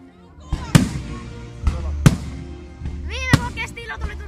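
Fireworks go off at Tykkimäki amusement park in Finland, three sharp booming bursts spaced about a second apart with crackling and whistling trails, heard from a distance amid faint crowd murmur.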